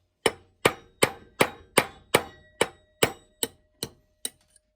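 A glass striking a Harley-Davidson derby cover during a clutch drum rebuild, ten sharp metallic clangs at a steady rhythm, each ringing out and decaying before the next.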